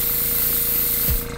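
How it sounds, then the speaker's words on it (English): An airbrush sprays hair dye for a hairline and beard enhancement, giving a loud, steady close-up hiss that cuts off abruptly near the end. "let me turn on the airbrush."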